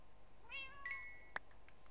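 A Minecraft cat gives a short rising meow followed by a second brief mew, faint and close, with no talk.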